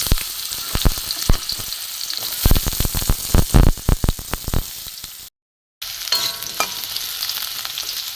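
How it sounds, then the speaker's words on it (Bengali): Potato pieces frying in hot oil in a pan, a steady close sizzle broken by a busy run of sharp clicks and spatters as they are stirred, with a brief gap of silence near the end. "ফের গ্যাসে তেল দিয়ে দিয়েছি, দিয়ে আমি আলুগুলো আগে ভেজে নেব"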